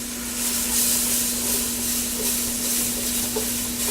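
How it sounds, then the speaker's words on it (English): Milk poured slowly into a hot pan while making Alfredo sauce, giving a continuous steamy sizzle and hiss with stirring, close and steady throughout with a faint constant hum underneath. "now we're going to add in 2 cups of milk. And you want to do this really slowly because it will steam up"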